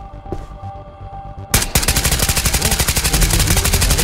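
Automatic gunfire in the VR shooter Ghost of Tabor, a loud sustained rapid burst starting abruptly after a quiet moment and rattling steadily to the end.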